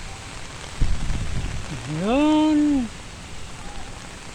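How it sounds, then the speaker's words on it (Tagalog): Heavy rain pours in a steady wash during a storm with strong wind over flooded ground in Calamba, and a voice speaks briefly over the constant hiss. "tuloy tuloy pa rin ang ulan at ang hangin napakalakas"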